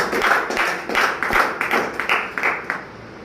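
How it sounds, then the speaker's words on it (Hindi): Audience clapping at a business plan seminar in Ujjain, a loose burst of hands with distinct individual claps that thin out toward the end, fairly close and without talk. "तो उनके लिए मैं जोरदार तालियां चाहता हूँ आपसे"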